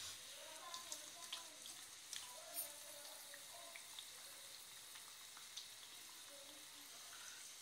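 Potato puri deep frying in hot oil, a soft continuous sizzle and crackle with small pops, fairly quiet, with a voice talking over it.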